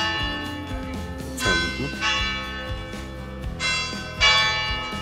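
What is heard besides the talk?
church bell ringing in Zermatt, Switzerland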